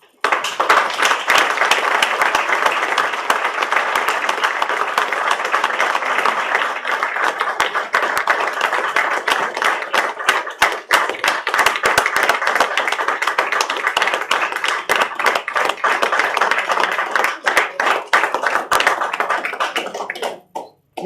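Sustained audience applause after a lecture at a centenary tribute event, dense and even clapping filling the room for about twenty seconds before tapering off abruptly at the end.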